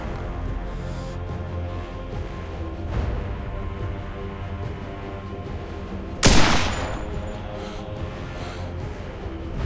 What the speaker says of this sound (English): let's go back and try the rifle. We're using the Carcano Model 38